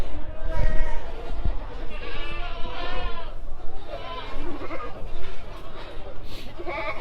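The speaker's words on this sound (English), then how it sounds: "But this is the goat tent. And let's have a look at some of these guys here." Goats bleating in the goat tent at the Devon County Show, several wavering bleats overlapping near and far amid the murmur of a livestock show crowd, with someone talking over them.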